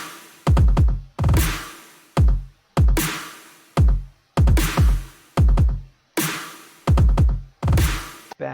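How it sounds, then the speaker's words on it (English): Punchy electronic kick drums hit in quick clusters of four, each burst a sharp thump with a fast decay, repeating in a tight pattern, loud and dry with no voices. "4 kick beats in quick succession."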